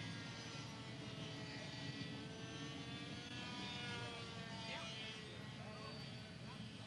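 A small airplane engine runs at a 1995 flying club fly-in in Ste. Genevieve, Missouri, producing a steady, fairly distant droning roar that holds evenly throughout.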